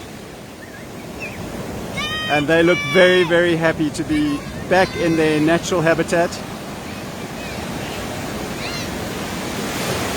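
Ocean surf at Plettenberg Bay, a continuous broad wash of breaking waves heard throughout, with someone talking over the middle portion.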